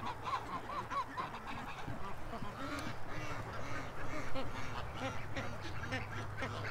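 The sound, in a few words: young female goose honking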